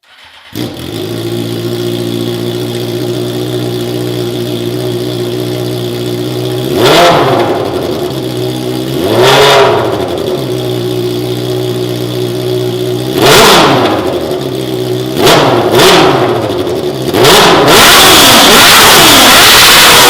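A car engine idles loudly, then blips its revs in sharp bursts several times, each rev rising and falling quickly back to idle.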